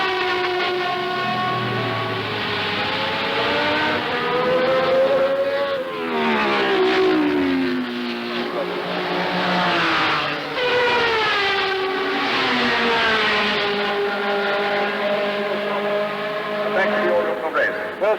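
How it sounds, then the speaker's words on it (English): Race cars, among them a BF Goodrich team Corvette, at night during the 1973 Le Mans endurance race, their engines wailing and sweeping up and down in pitch as they pass, loud and continuous beneath a narrator's voice. "always the incessant wail of the cars knifing through the merriment."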